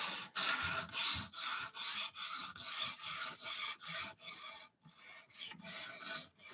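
Spyderco Paramilitary 2 knife blade drawn across the stone of a guided slide sharpener, a steady run of close, harsh rasping strokes in a regular back-and-forth rhythm with brief pauses, no talking.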